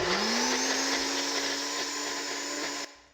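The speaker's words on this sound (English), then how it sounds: "I added my butternut squash to the blender." A kitchen blender purees cooked butternut squash, a loud, steady high whine with a rising motor pitch at the start, running close and continuously for nearly three seconds before cutting off abruptly.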